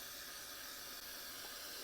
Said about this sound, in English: We're gonna take some carburetor cleaner and just start spraying on the top.